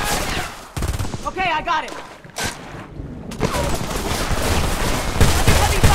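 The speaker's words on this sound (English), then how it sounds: "Give me some covering fire!" Dense gunfire in the war shooter Homefront, with rapid automatic bursts and single shots crackling continuously over battle noise while a soldier shouts briefly.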